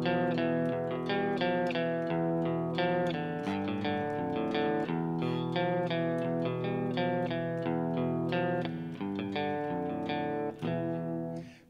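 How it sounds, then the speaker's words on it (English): Distorted electric guitar plays the intro riff of a song: loud, steady chugging notes with ringing overtones in a driving, repeated rhythm, heard on its own. "In the intro, it sounds something like this."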